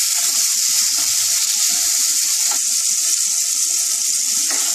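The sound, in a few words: fish pieces frying in oil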